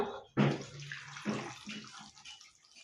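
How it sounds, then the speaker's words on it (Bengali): A small amount of water splashes and pours into a pot of pumpkin and potato pieces in one short, close pour that trails off quickly. "আর দিয়ে দেবো অল্প পরিমাণে পানি"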